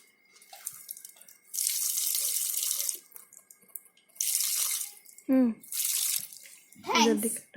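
Water runs from a tap in short bursts, a hissing gush switched on and off several times, with a couple of brief voiced sounds from a child in the gaps.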